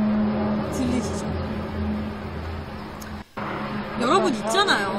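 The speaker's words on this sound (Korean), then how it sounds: "일반 차들이 왔다 갔다 다니고 있고요" Steady traffic rumble of ordinary cars moving back and forth on a road, a continuous mid-distance drone with no single pass standing out, broken by a brief dropout and later joined by rising chirpy tones.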